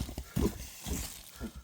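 A Kyrgyz horse walks with a few soft, low hoof thuds in an uneven rhythm, faint and close, over quiet background noise.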